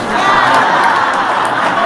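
A crowd at a community gathering for Lurah Bloon gives a short, loud burst of clapping and cheering that fills the room.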